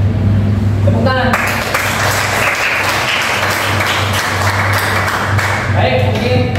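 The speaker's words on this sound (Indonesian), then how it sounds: "Tepuk tangan." Audience clapping in a classroom or hall after a teacher-training presentation, a dense burst of hands that swells and holds steady for several seconds, with a voice faintly over it at the start and end.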